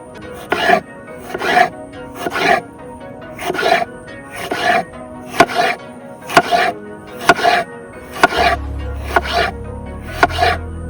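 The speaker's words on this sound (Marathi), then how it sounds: "तर मित्रांनो बिर्याणीच्या वरती आपल्याला टाकायला असा उभा कापून घ्यायचा टोमॅटो." A knife cuts a tomato lengthwise for biryani, outdoors in the hills, giving a steady series of about a dozen crisp, close chopping strokes against a board at an even rhythm.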